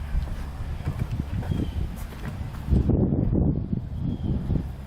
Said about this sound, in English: Ignore the wind. It's pretty windy out today.